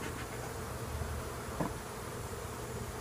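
Honey bees hum and buzz steadily around a hive kept in a 5-frame setup, a soft, continuous drone close by with no voices.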